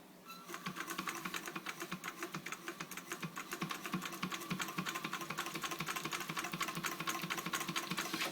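A sewing machine stitching a fabric cube without a reverse function runs steadily: a fast, even mechanical chatter of the needle with a constant motor whir, close and continuous from start to finish, with no talking.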